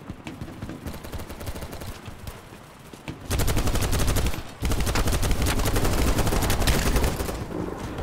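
Video game weapon fire, dense rapid automatic gunshots building from lighter bursts into a loud sustained stream, with a brief gap midway, close and dominant with no talking.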